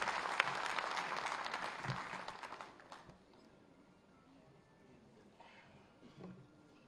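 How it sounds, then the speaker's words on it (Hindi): Audience applause welcoming a speaker at an intellectuals' conference in Ghaziabad, loud and dense for about three seconds, then thinning to scattered claps and crowd murmur. "एक बार जोरदार तालियों के साथ आप उनका स्वागत"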